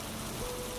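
Rain falls in a soft, continuous patter and hiss, a brief, even stretch of steady rainfall with no voices over it.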